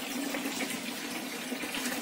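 Water circulating in a low-cost fish tank as a small pump sends it back from a ground-level tank, a continuous splashing, trickling flow at steady level, close by with no voices.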